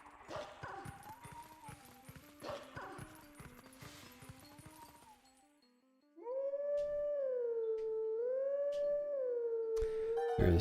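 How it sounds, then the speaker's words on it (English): Howling grass in the Zelda: Twilight Princess video game, played near Lake Hylia: after footsteps and a few short game sounds, a lull, then a loud, sustained, wavering howl melody that fills the last few seconds. "There's some howling grass here, just so you can get back to Lake Hylia."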